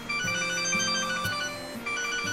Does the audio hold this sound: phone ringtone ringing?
yes